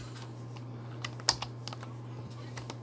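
Sparse, faint clicks of typing on a computer keyboard, a few scattered keystrokes with one sharper tap, over a steady low electrical hum with no talk.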